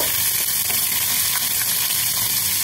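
Onions fry in a hot pan for chicken pulao, a loud, steady and close sizzle that holds evenly throughout with no talk over it.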